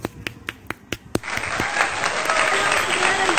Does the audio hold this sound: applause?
yes